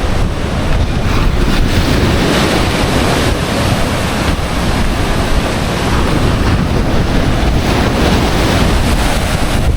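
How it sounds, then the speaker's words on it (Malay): Strong ocean waves surge and break at Kuantan beach, a loud continuous roar of surf with wind buffeting the microphone throughout, no talking. "Ombak kuat juga ni."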